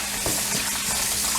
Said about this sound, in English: Get your cold running water and you rinse that vinegar off.